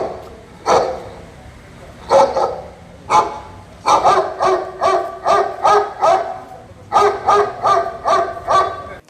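At a protest against stray dogs, several voices imitate street dogs, letting out loud barking howls in rhythmic bursts, some spaced apart and others in quick runs.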